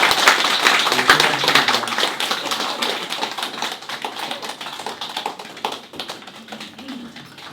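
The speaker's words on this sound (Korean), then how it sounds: "우리 다시 한번 축하 박수 드리겠습니다." A church congregation at a Sunday worship service in Hanoi claps in congratulation: brisk, crisp, close applause that slowly thins and fades over several seconds.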